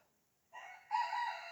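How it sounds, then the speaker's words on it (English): A young rooster on a farm gives a short, faint crow in two rising parts, thin and slightly strained, alone against near silence. "There's one of our younger roosters has learned how to crow."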